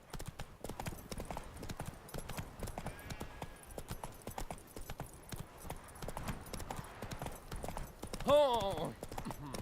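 Horse hooves clip-clopping in The Witcher video game, a steady rapid rhythm of hoof falls under frequent talk, with a short sharp whinny near the end.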